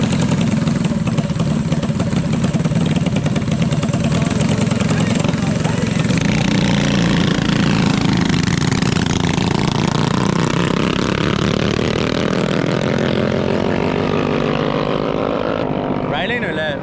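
Mini bike engines at a mini bike drag race make a loud, buzzing, high-revving roar that swells as a bike passes and then fades, with voices talking faintly underneath.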